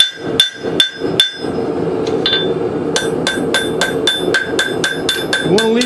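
Sharp ringing hammer blows on hot steel at an anvil while smoothing a forged woodcraft tool, close and loud, first a few spaced strikes, then a brief pause, then a quick steady run of blows.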